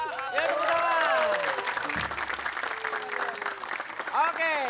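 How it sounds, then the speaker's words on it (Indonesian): An audience claps on an Indonesian entertainment show: steady, fairly loud applause lasting several seconds while voices talk over it. "Ya, tepuk tangan."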